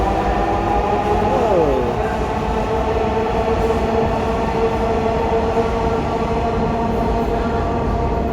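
A metro rail train passing at Uttara North station in Dhaka, a loud, steady rumbling roar with a brief squeal of wheels, sustained close by from start to finish.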